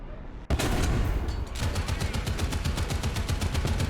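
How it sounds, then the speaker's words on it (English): Artillery and gunfire in the World War II tank game War Thunder: a sharp blast, then a rapid, sustained stream of loud shots that keeps hammering without pause. "There's artillery right on me though"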